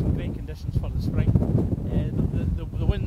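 Strong easterly wind gusting at 35 to 45 mph buffets the microphone beside a cold Highland salmon river, a constant loud low roar with surging gusts mixed with speech.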